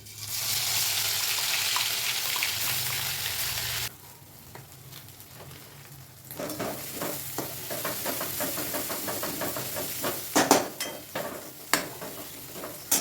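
Ground masala of garlic, coconut, ginger, coriander and sesame sizzles loudly in hot oil for several seconds, then quiets before steady stirring and scraping clatter resumes with sharper knocks near the end.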